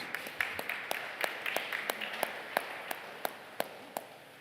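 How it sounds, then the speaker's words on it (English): Sparse clapping from a small audience at a press conference, individual claps ringing out unevenly and growing slower toward the end, with quiet room tone. "So give yourselves a round of applause."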